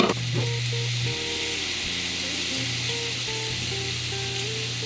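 Vegan BBQ pulled pork ingredients caramelizing in a pan, a constant close sizzle and hiss of frying with faint stirring, steady throughout with no talk.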